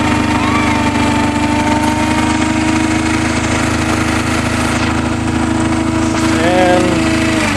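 A Case White Knight 328 garden tractor engine with custom dual exhaust runs steadily at idle with a throaty, even drone, close by and continuous throughout, with a few faint higher tones near the end.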